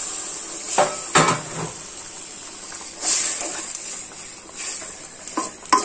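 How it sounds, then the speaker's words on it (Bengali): Chotpoti masala of tomato, ginger, turmeric, chilli powder and a little salt frying in a pan, soft steady sizzle under repeated scraping strokes of a spoon against the pan, with a few sharper clatters, near and moderately loud. "আদা, হলুদ, মরিচের গুঁড়া, হালকা একটু লবণ আর চটপটি মশলাটা ভালো করে কষানো হোক"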